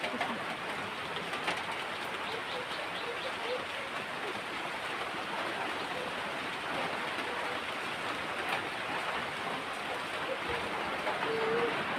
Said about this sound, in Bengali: বৃষ্টির শব্দ মনে পাওয়া যেতেছে